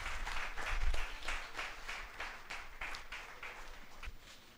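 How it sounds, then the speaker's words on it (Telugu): A congregation at a church building dedication service claps together, a moderately distant, rhythmic run of many hands applauding that fades slightly toward the end. "అందరు చప్పట్లు కొట్టి ప్రవణ్ మహిం పరుచుదాం."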